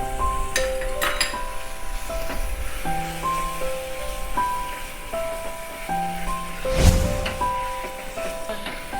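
Spice masala with Kashmiri red chili powder frying in oil for a Katla fish curry, a steady soft sizzle that runs throughout under faint background tones and occasional clinks.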